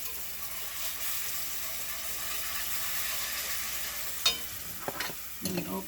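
Gravy thickening in a pot of home canned chicken broth being stirred steadily, a soft continuous scraping and bubbling texture, with a few sharper utensil knocks near the end.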